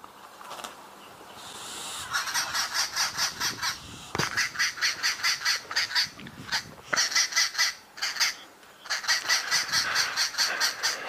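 Several birds give harsh, rapid repeated alarm calls at a boomslang snake in the bush, loud bursts of chattering with short pauses between volleys.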